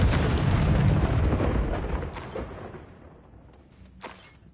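Bombarda spell blast in the Hogwarts Legacy video game: a heavy, rumbling explosion that starts loud and slowly fades, with a couple of faint crackling bursts trailing near the end.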